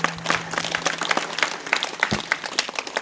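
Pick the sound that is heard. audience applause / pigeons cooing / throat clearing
audience applause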